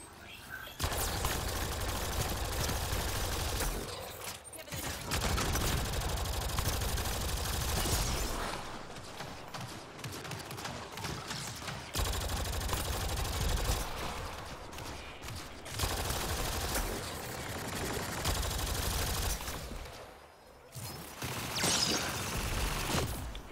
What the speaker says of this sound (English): Well then, stop shooting at me.